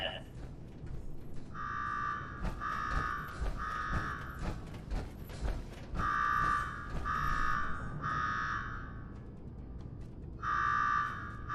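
An electronic alarm in Fallout 4's Nuka-World amusement park blares in repeated buzzing bursts, some short and some longer, in an irregular pattern over a murmur of game background noise.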